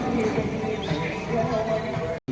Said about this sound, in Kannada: ಬರ್ತಾವೆ ನೋಡಿ ಕುರಿಗಳೇ ನೋಡಿ ಎಷ್ಟದ ಕುರಿ